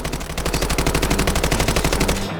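Automatic gunfire from the mobile shooter game Delta Force Mobile: a loud, rapid, evenly spaced burst of shots rattling continuously for about two seconds before cutting off, with no voices over it.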